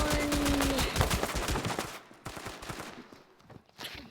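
Rapid bursts of gunfire from a weapon in a shooting video game, dense loud volleys for the first two seconds, then sparser scattered shots and softer thuds trailing off.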